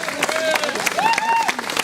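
Crowd applause for the organizers at a community festival, brief and fairly close, mixed with cheering voices and whoops over the clapping.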